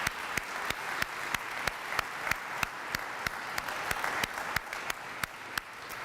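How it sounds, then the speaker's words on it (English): An audience at a university awards ceremony applauds its award winners, a soft, distant round of clapping with a faintly steady beat and no voices. "Let's give all of our award winners another round of applause."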